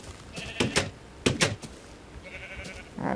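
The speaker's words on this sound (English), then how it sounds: "I'll try to attract only one sheep." Sheep bleating in the video game Minecraft, several short bleats in quick pairs, close and clear, with faint clicks between them.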